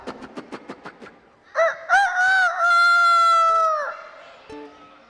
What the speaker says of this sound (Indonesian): Ayam berkokok